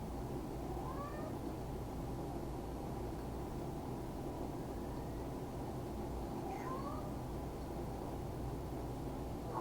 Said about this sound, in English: It's a different meow, it's a different call.